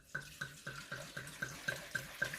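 A whole bottle of burgundy wine glugs out into a cooking dish for beef bourguignon, giving nine regular, evenly spaced gurgling pulses of liquid pouring, close and fairly quiet, with no talking.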